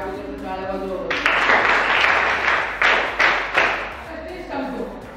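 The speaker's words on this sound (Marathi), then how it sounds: "या अभिनेत्यासाठी अगोदर टाळ्या वाजवा" Applause for an actor from participants at an acting workshop in Pimpalgaon Baswant: a loud, close burst of clapping that swells, pulses unevenly and fades out after a few seconds, with a voice speaking before it begins.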